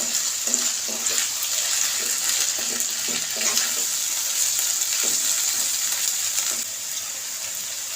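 Dried chili paste and spices are mixed into beef in a hot pan, with steady loud sizzling and repeated scraping stirs. Everything sounds close up, and no one speaks.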